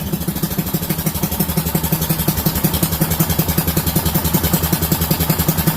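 An engine running for the first time on a newly installed carburetor settles into a steady idle, loud and close, with an even rhythmic chugging throughout.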